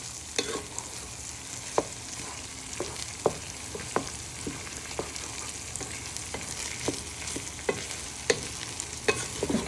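Sausages and bacon sizzling in a pan as they are stirred, a steady frying hiss with regular soft scrapes and clicks from the spoon throughout, with no talk.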